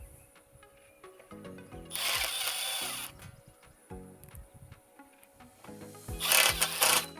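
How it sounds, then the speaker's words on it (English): A power drill drives two Tex screws into swedged steel greenhouse pipe, giving two loud whirring bursts, each a second or so long, separated by quieter handling clatter, close and with no talk. "Then we're gonna insert the swedged pipe into the other one and place 2 Tex screws into this."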